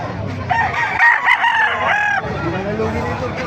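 A bulik gamefowl rooster crows once, loud and close, with a long harmonic call, and a voice is heard around it.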